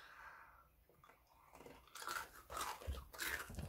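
Crunchy Jjapaghetti-flavored Jjolbyung snack, a cylindrical ring-shaped puffed snack dusted with seasoning powder, chewed close up in several loud crunching bites that start quietly and grow stronger, with no talking.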